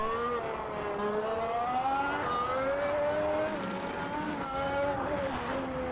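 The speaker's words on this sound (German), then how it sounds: "wie genial sich das anhört, wenn man so aus der Kurve, aus dem niedrigen Gang heraus beschleunigt" Race car accelerating out of a corner from a low gear in the sim racing game Automobilista 2: a loud, steady engine whine climbs in pitch through the gears, continuous and close, with no talking.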